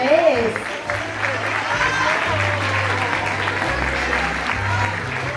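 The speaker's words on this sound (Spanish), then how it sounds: "escuchemos el aplauso" Applause from the crowd at a bachata dance congress jam, broad continuous clapping sustained for several seconds at an even level, with some background voices and a low musical hum underneath.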